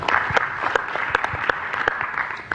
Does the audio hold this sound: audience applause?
yes